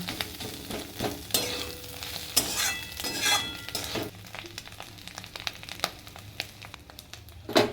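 Chicken and egg sautéed together in a pan for khichuri, with a steady sizzle broken by repeated scraping and stirring clatter from a spatula, close up and without any talk.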